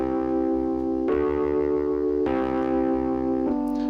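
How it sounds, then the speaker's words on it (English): Electric piano chords run through a distortion plugin give a buzzy, organ-like tone. Three sustained chords change at steady intervals, close and even in level, with no voices. "maybe something like just this distortion plugin could be the trick for that"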